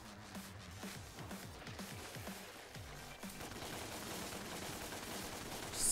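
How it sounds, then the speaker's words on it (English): Rapid gunfire from two pistols in Devil May Cry, a fast continuous stream of shots in quick bursts, fairly quiet and steady, with no talking over it. "Slowly walk towards firing both guns."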